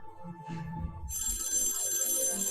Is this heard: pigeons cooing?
no